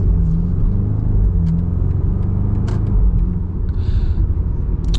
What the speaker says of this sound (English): in the vehicle you hear that rumble from the base of the V8